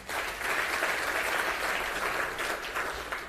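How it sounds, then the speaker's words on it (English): An audience at a learning-day forum applauds the coal sector, the broad, even clapping sustained at moderate volume from a slight distance, with no speech over it. "we can give the coal sector a round of applause for that"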